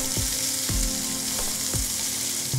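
Onions and chopped green chilli frying in a pan, a steady loud sizzle with a spatula scraping and tapping the pan every half second or so.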